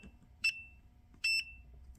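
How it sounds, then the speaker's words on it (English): Continuity tester on a homemade velostat-film matrix keyboard, giving two short, sharp electronic beeps close by, the second slightly longer, over a quiet background hum. "So if there's a beep, that means there's a connection."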